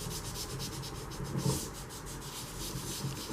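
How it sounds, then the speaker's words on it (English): Chalk pressed hard and burnished into card, a steady dry rubbing with soft scratchy strokes repeating close up at low level, no voices. "really press it in and burnish it into the card"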